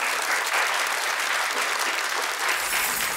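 Loud, dense clapping from a large TV studio audience fills the whole stretch, steady and continuous without a break.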